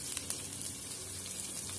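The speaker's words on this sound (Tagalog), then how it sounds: "Prito tayo ng onion." Onion fries in a pan as a soft, steady sizzling hiss with a few faint pops, quiet and alone.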